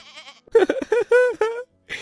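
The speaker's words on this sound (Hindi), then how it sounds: "ये मेरा बकरा है" Goat bleating close by, a string of several wavering, nasal cries in quick succession, loud and clear with short pauses between calls.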